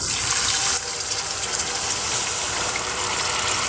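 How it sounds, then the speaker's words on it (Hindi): Water, roughly three glasses, is poured into a pot of browned meat for haleem, giving a continuous loud gushing splash close by that holds steady throughout. "अब मैं इसमें पानी लगाने लगी हूँ"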